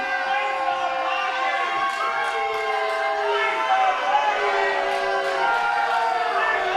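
A crowd at a live pro wrestling show, the Rocky Mountain Pro Aces Wild pre-show, makes a loud, sustained din of shouting and chanting voices that fills the whole stretch.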